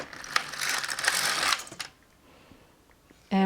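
An LK150 knitting machine carriage runs across one row of nylon or cotton thread, a dense mechanical whirring and clattering lasting about a second and a half, followed by quiet handling and a sharp clunk at the end.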